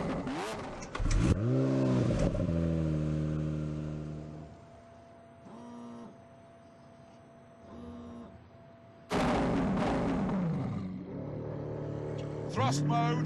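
A 730-horsepower car in The Grand Tour video game revs and roars in bursts, with engine pitch sweeping up through shifts, then quieter idling stretches before another loud surge.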